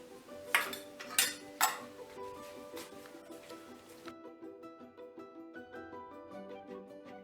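A spoon stirs and scrapes a garlic, ginger, onion and green chili paste in a metal pot while cooking Himachali patid, with a few sharp clanks at first, then softer steady clinking and scraping.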